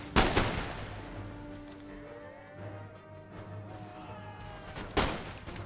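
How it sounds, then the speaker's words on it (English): Musket volley from line infantry in the game Empire Total War, a broad crackling burst of massed shots that opens the battle sounds and returns near the end over a steady din. "Line infantry now firing."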